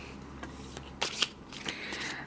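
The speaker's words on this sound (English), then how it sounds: "I obviously cannot shuffle well." A deck of Kipper cards is shuffled on a tabletop, with soft riffling and several sharper slaps and flicks of cards, close and fairly quiet.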